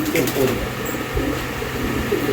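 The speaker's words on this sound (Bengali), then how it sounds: "এটা একটা বেলজিয়ামের একটা নর কবুতর" Soft low cooing from a male Belgian pigeon repeats in short phrases, close by, with a steady background hum and faint voices.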